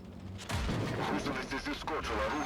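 Machine gun fire from an FV Defender tank in a video game, a loud sustained rattle of rapid shots starting half a second in, with a voice faintly present underneath.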